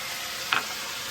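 Food frying in a pan for a cold-weather dalia khichuri gives a steady, bright hiss of sizzling with one brief scrape of stirring midway, close and even, without speech.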